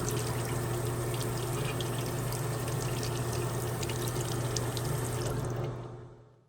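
Tap water runs steadily from a sink faucet over a printable vinyl sticker, a continuous close splashing rush that fades out at the end.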